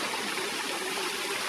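A river flows through an Idaho mountain valley during a backcountry elk hunt, heard as a loud, steady, close rushing of water with no pauses.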